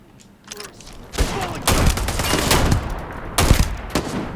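Rapid bursts of gunfire in the sci-fi video game Starfield, loud overlapping volleys with sharp individual shots and a sustained fusillade, close and without talking.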